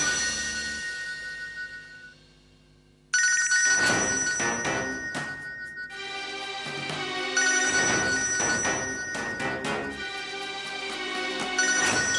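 A telephone rings during a Hindi TV drama scene, its bright, melodic ringtone repeating in loud rhythmic bursts for about twelve seconds, with a short near-silent gap early on and no talking over it.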